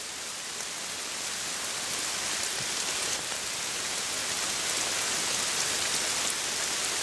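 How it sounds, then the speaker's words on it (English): Heavy rain pouring down during a storm in the New Zealand bush, heard from under a dry rock and log shelter: a dense, continuous hiss of falling water that swells slightly louder over the seven seconds, with no voices. "Just letting the old storm go through. Skies have opened up."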